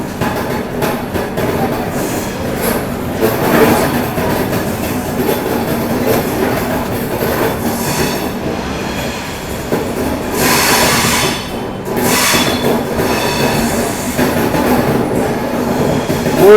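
The Kacheguda Superfast Express departs platform 6 at Mysore Junction, a loud, steady rumble of coaches and wheels rolling on rails, with clattering joints and occasional bursts of brighter metallic noise, no voices.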